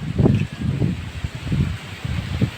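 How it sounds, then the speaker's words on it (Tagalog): Strong gusty wind buffets the microphone in repeated low rumbling bursts while leaves rustle and flutter in the background beside a cornfield. "Oh, nagliliparan ng mga dahon-dahon. Kasi ang lakas ng hangin."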